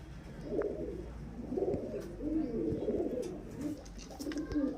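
A male Madrasi highflyer pigeon coos close by in a string of about five rolling, throaty phrases with short gaps between them, over a faint background hum.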